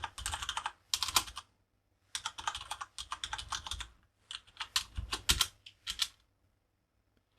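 Bursts of rapid typing on a computer keyboard, quick clustered keystrokes in several runs separated by short pauses, close and fairly quiet with no talk.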